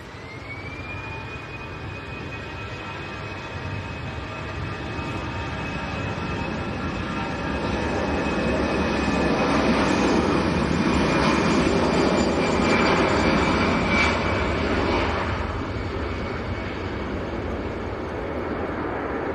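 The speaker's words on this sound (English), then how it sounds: "Austrian registered A319." An Austrian-registered Airbus A319 operating EasyJet to Milan takes off at Manchester Airport, its jet roar and high whining engine tone building gradually, peaking loudly in the middle, then easing slightly, with no talking.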